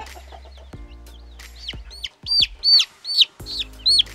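Two-week-old native chickens chirp and cluck up close in short, high, repeated calls over soft rustling, with brief quiet gaps between bursts.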